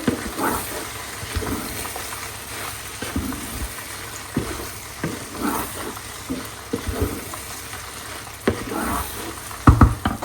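Chicken in a pan with soy sauce, chili sauce and sweet chili sauce crackles and sizzles as it is mixed, with repeated scraping and stirring strokes and a louder clatter near the end.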